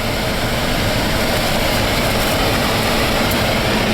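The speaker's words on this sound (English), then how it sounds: "All right, we're in our Jeep. We're headed down to the big pond." Jeep driving toward a big pond, its engine giving a steady, loud, broadband rumble and road roar throughout with no breaks and no talking.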